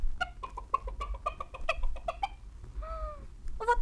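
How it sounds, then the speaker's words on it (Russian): A hen clucks loudly across a farmyard, a run of sharp, repeated clucks with a rising drawn-out call near the end, close and clear with no talking. "закудахтала на весь двор."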